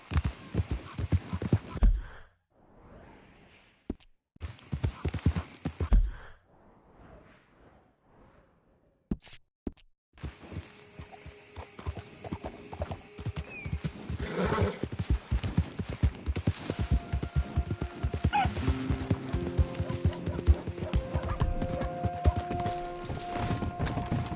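Steady clip-clop of horse hooves from riding in the video game Red Dead Redemption 2, with quiet sparse steps at first and then a brisk, continuous trot that gets louder and denser.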